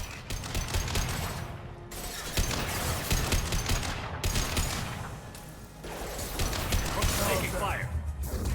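Rapid automatic gunfire and fusillades in the Mass Effect 2 video game, dense bursts of shots and impacts crackling continuously, loud and close, with brief lulls between volleys.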